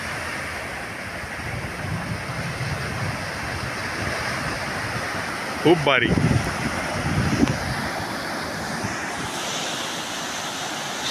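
Ocean waves washing onto the golden sand of Dubbanshishi Beach, Gokarna, a steady soft surf wash mixed with strong wind buffeting the microphone, and a few brief spoken words partway through.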